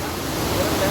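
A waterfall beside the mountain walking trail from Gangotri to Kedarnath gives a dense, steady rush of falling water, loud and continuous over the whole moment.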